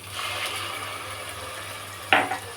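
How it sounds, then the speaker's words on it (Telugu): Tomato puree goes into a pan of browned onion, ginger, garlic and green chilli paste. A steady sizzle from the hot pan carries on until one sharp wet splash and hiss near the end, with no talking. "ఇప్పుడు మనం దీంట్లో టొమాటో ప్యూరీ వేసేస్తాం"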